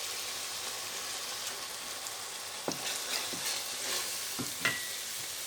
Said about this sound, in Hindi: हम कीमे को मसाले में भून के फिर मैं थोड़ा सा और करूँगी ताकि जो मसाले हैं ये अच्छी तरह भुन जाए।